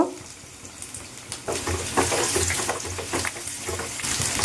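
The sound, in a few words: onions frying in a pan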